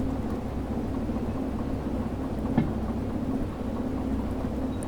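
Steady, loud rain drumming on a corrugated metal roof in the train game Derail Valley, a constant dense patter with a faint low rumble underneath.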